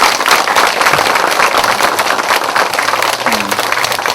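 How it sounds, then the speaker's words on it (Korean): A lecture hall audience in Iksan gives loud, dense applause to a professor after a two-hour public citizens' lecture, with sharp overlapping claps continuing steadily. "우리 교수님께 다시 한번 큰 박수"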